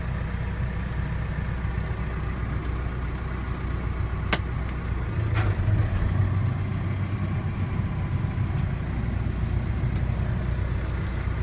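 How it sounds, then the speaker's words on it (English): A Massey Ferguson 5611 tractor runs its PTO at 540 economy with the blades spinning, a steady low engine rumble close by with a few sharp clicks and knocks over it. "Blades are spinning, and now I can just put the throttle all the way up to full throttle."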